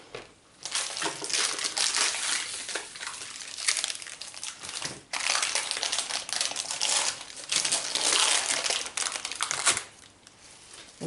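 Parchment paper is peeled away from a dish of set quince paste in long, loud crinkling and crackling bursts, close up. Three sustained stretches are separated by brief pauses.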